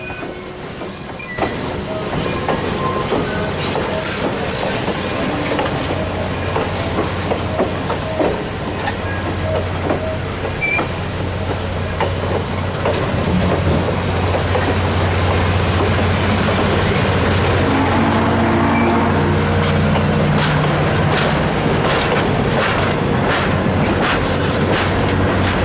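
Passenger railcars, including Iowa Pacific and Empire Builder cars, roll past at the 2014 Owosso, Michigan train expo with a loud, continuous rumble, wheel clatter and drawn-out squeals building toward the end.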